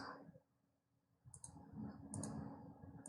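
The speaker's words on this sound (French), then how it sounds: "Double clic." A computer mouse gives a quick double click twice, small crisp paired taps over a faint room hum and soft low rumble, while working in drawing software.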